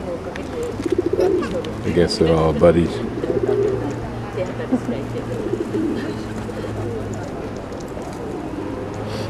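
Pigeons perched on turtles at a pond in Nara, Japan, coo softly in low repeated bursts while someone talks nearby over outdoor background noise.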